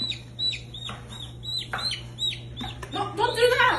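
Repeated high, rising peeps and soft clucks from a baby chick come close by in a steady series. A louder, busier stretch of chirping arrives near the end over a faint steady hum.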